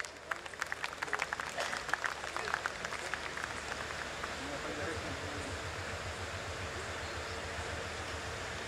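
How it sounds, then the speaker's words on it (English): Audience applause at a Bharat Petroleum Corporation Limited corporate evening event, a dense, steady patter of many hands clapping from the start, with a few sharper claps early on and murmuring voices mixed in. "Please welcome him with a round of applause."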